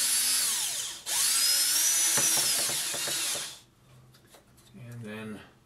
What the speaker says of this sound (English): drive this screw in,